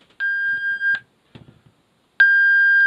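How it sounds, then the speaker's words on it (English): The AIS CPA alarm on a Standard Horizon GX2200 handheld VHF radio sounds loud, close, steady electronic tones: a long beep of about 0.8 seconds, a short pause with faint rustling, then a second sustained tone. "there's the AIS alarm going off, so that's the CPA alarm"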